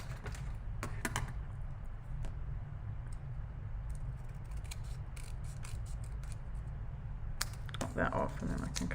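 Sharp snips of scissors cutting paper, a few quick cuts early and a flurry near the end, over a low steady background hum.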